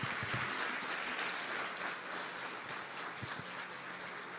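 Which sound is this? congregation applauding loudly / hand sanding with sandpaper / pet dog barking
congregation applauding loudly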